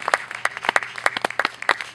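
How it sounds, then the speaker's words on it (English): Audience at an awards event applauding, with distinct claps from a modest group coming in quick uneven bursts, close and clear, with no talking. "If you taught a class, please clap."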